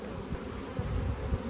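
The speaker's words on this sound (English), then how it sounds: "And I'm done with this pallet of bees." Honey bees swarm and buzz densely around an open hive while colonies are being split, a steady close-up drone with no talking.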